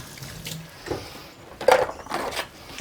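Water runs from a kitchen tap while hands are washed under it, a short splashing rush that swells midway and then eases, with no talking over it.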